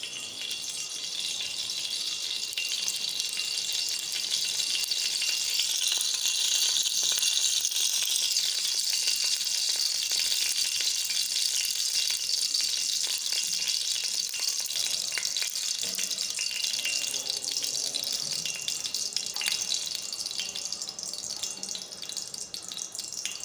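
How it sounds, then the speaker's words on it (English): Refined oil heating in a lagan (deep pan) for chicken curry, giving a steady, continuous hiss and crackle of frying that stays loud and even throughout, with faint clatter and no voices. "Now just heat my lagan and then add a refined oil."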